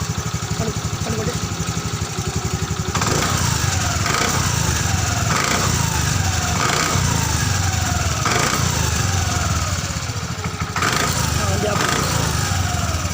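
A Honda Activa 5G scooter with a loose wheel nut runs at a steady engine drone, with a rhythmic vibrating rattle pulsing through it, loud and close.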